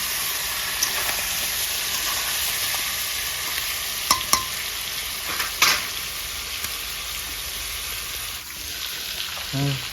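Garlic and whole cumin seeds fry in a pan with a steady sizzle and hiss, broken by a few sharp clinks and scrapes of stirring.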